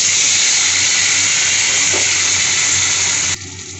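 Potatoes dropped into hot fish-frying oil tempered with nigella seeds, producing a loud, steady hissing sizzle that runs on before cutting off abruptly near the end.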